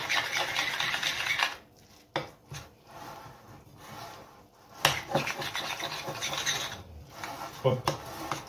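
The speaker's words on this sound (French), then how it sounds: "avec une cuillère, hop, on va bien mélanger le tout" A spoon stirs and scrapes a tuna croquette mixture in a bowl, giving rubbing, scraping strokes with brief pauses and a few sharper knocks against the dish.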